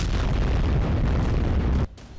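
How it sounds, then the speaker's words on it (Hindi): Shelling and rocket launcher fire in Gaza: a dense, loud rumble of blasts and booms rolling on without a break, then cutting off abruptly near the end. "गोलाबारी और लॉन्चर दागे जा रहे हैं।"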